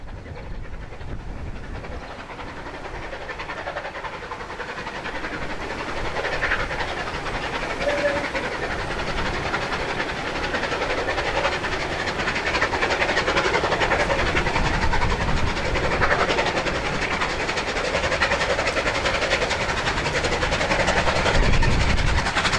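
Steam locomotive Tangmere hauls a train with a diesel pushing at the rear, a steady chuffing roar and rattle of rolling stock building gradually in loudness and staying dense throughout.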